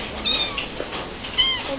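A kitten meows several times, thin rising and falling cries repeated across a couple of seconds, fairly close over light background noise.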